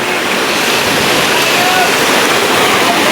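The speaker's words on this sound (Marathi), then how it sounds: "बघा वरतून कसं पाणी येतंय" A waterfall at Malangad pours water down from above in a loud, constant roaring rush of broadband noise, close by and unbroken throughout.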